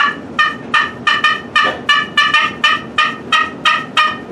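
A homemade turkey call built from a kit and played with a pre-assembled plastic-tipped striker gives a loud, close series of about a dozen sharp, rhythmic yelps in steady succession.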